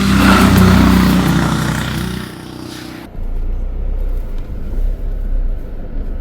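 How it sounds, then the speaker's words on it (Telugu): A car on a winding hairpin mountain road near Ooty approaches with a loud engine rumble heard from inside a vehicle, then the noise drops off to a steadier road drone with no talking. "అక్కడి నుండి కార్ వస్తుంది."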